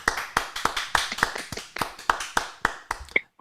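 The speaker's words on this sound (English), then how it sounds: "give him a round of applause" A small group claps for a guest during a talk on making money from YouTube, a loose series of distinct sharp hand claps close by that thins out and stops near the end.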